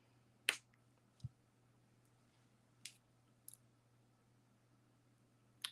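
Jewellery wire is trimmed with cutters, giving a few sharp, isolated snips and clicks spaced a second or more apart in an otherwise quiet room.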